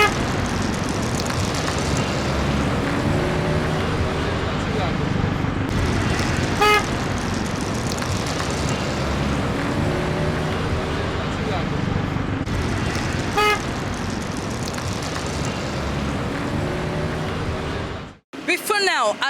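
Heavy road traffic in Lafia rumbles continuously nearby, with car horns sounding briefly a couple of times over the steady roar before it cuts off near the end.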